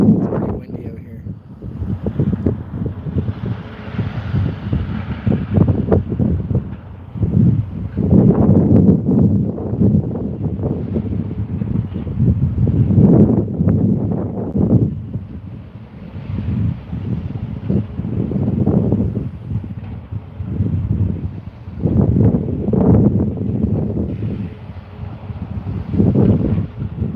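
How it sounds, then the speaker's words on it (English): Strong wind buffets the microphone outdoors at a lake in late winter, gusting in heavy surges and lulls, with a person talking intermittently beneath the rumbling gusts. "It's pretty windy out here."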